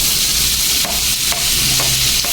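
Garlic frying in hot oil for Filipino sisig bangus gives a steady, close sizzle with a few scrapes of stirring, loud and continuous throughout with no talk.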